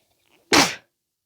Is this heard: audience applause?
no